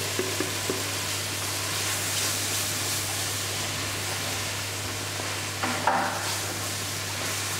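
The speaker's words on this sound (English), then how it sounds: "now I'm going to add back in our mince" Cooked beef mince is added back into a pan for a cottage pie, giving a steady close sizzle and fry with scraping and stirring, plus a brief louder burst of stirring near the end. No one speaks.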